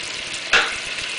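Fresh tomatoes, capers and olives hitting a hot pan for a puttanesca sauce, giving a steady hiss of frying with one brief louder sizzling burst midway and no speech.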